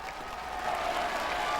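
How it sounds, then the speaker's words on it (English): Pilgrims outside Gemelli Hospital cheer and applaud as the Pope leads the Sunday Angelus after intestinal surgery, a loud, steady crowd roar with clapping that swells slightly and carries on without a break. "Pilgrims cheering outside of Gemelli Hospital as the Pope leaves his hospital bed to lead pilgrims in Sunday's Angelus prayer."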